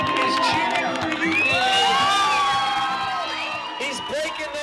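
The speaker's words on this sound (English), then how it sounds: "The whole island is cheering for you." Crowd on an island cheering and whooping for a runner with Parkinson's as he reaches the finish tape, with overlapping yells and shouts, some high-pitched, rising and falling around close voices.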